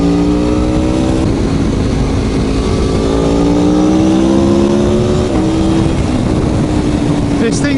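An Aprilia Tuono Factory V4 1100 motorcycle accelerating hard on a gritty road, its loud engine note climbing through the gears in rising sweeps under constant roaring wind noise, close to the rider throughout.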